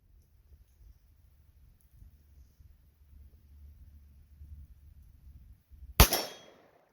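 A single sharp revolver shot from a .38 Special loaded with Buffalo Bore +P 158-grain ammunition, a loud crack at the end after several seconds of quiet low outdoor rumble.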